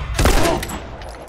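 A short burst of video game gunfire, a sharp cluster of shots up close that quickly fades into a ringing tail.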